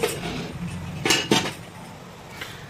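A metal lid set down onto a pan of fish curry on a low gas flame, giving two quick close clinks of metal on metal over a faint steady hiss.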